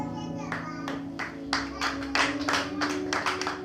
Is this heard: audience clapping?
yes